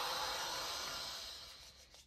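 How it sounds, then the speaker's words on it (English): Two hands rub together in a steady, close, dry swishing that softens and fades toward the end, with no talking over it. "rub the hands together"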